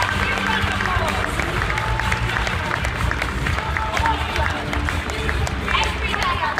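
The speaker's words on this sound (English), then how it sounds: "Give round of applause." An indoor audience at a gadget show gives sustained applause after a magic performance, dense clapping and crowd noise filling the space, with voices talking over it throughout.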